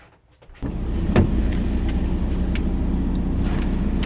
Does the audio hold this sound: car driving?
yes